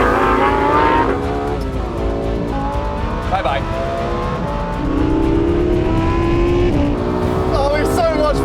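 Lexus LFA and Lamborghini Huracan STO in a drag and roll race, with loud engines revving and climbing in pitch through gear changes and tires briefly squealing, while people talk over the sustained roar.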